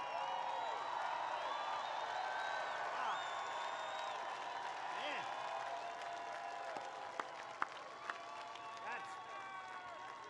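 A large outdoor crowd at a Trump MAGA campaign rally near aircraft hangars keeps up steady, distant cheering and applause throughout, with scattered whoops and a few sharp claps standing out; someone talks over the crowd noise.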